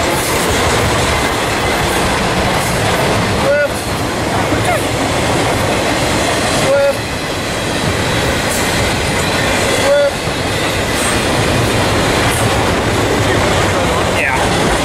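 A freight train rolls past close by, loud and continuous, with a steady rumble and rhythmic clacking of wheels over rail joints every few seconds.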